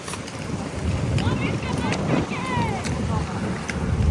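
Strong wind gusts across the mic beside a clear-water river, a loud, continuous rushing roar with faint tonal sounds weaving through it.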